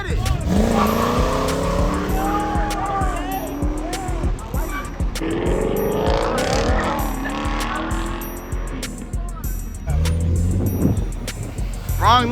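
A BMW M4 sliding at a car meet, heard as loud engine revs and tire squeals with sweeping pitch, with a crowd shouting and talking over it throughout.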